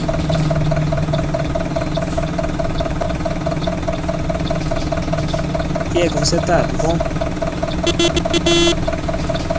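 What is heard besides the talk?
Mercedes-Benz OF-1721 bus engine idling, Marcopolo Torino body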